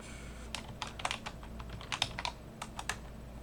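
Computer keyboard typing at a desk, a run of quick, uneven keystrokes close up, alone without talk, with small bursts and pauses between clusters of clicks.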